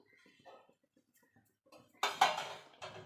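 Orange cake batter being stirred in a bowl, soft faint scrapes followed by a louder burst of clinking and scraping utensil against the bowl near the end.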